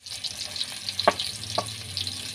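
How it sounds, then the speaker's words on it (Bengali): Sliced onions hitting hot oil in a kadai, a steady close sizzling hiss with a couple of sharp spits and crackles as the pieces settle. "তেল গরম হয়ে গেছে, এবার আমি পেঁয়াজটা দিয়ে দিচ্ছি"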